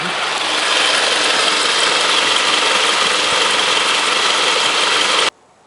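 A car engine runs steadily with the AC compressor clutch engaged and turning, giving a loud, even mechanical whir and hiss that cuts off sharply just before the end.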